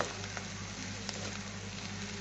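Potol dorma stuffing frying in a pan, giving a steady, faint sizzle with no voices and no breaks.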